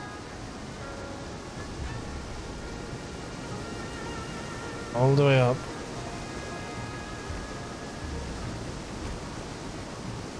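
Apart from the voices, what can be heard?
waterfall in the video game Guild Wars 2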